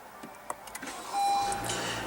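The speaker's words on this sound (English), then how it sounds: "what you're hearing there is a 2-liter 4-cylinder engine." A 2016 Honda Civic's 2-liter 4-cylinder engine cranks and catches after a few short clicks, then settles into a steady idle close by.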